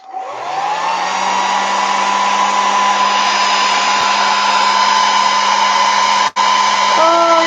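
A hair dryer runs steadily to dry a gelli print in an art journal, a loud close whirring blow with a constant motor whine, briefly cutting out near the end before resuming.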